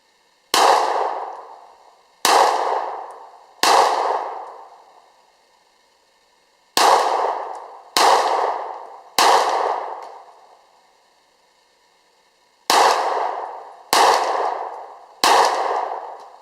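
Self-defense handgun loads are fired at a steel target outdoors: nine sharp shots with ringing metallic clangs, grouped in three bursts of three, each decaying quickly, loud and close with no talk.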